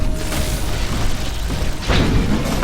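A dense, noisy Titanfall game soundscape with booming blasts and a louder explosive burst near the end, all fairly loud and continuous.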